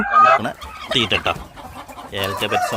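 Backyard chickens kept by a home poultry farmer cluck in short, busy bursts close by, with brief pauses between calls and a voice faintly mixed in.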